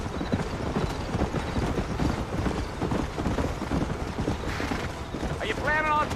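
Horse hooves clip-clopping steadily on a trail in the Western video game Red Dead Redemption, a continuous close trotting rhythm with a brief whinny near the end and no speech.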